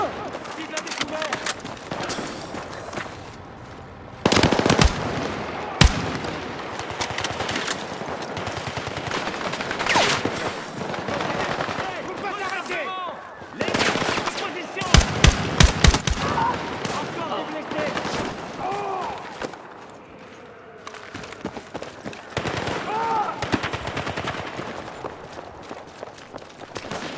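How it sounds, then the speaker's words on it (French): Enemy gunfire in the video game Battlefield 6 campaign: repeated machine-gun bursts and single shots crack out loudly amid battle noise and footsteps, with voices speaking in between. "Tir ennemi."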